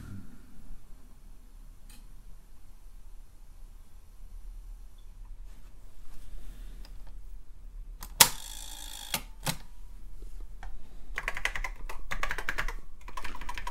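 Typing on a TRS-80 Model I computer keyboard, with scattered single key clicks at first, then a loud clack and a rapid cluster of keystrokes, close by over a low steady hum and with no talk.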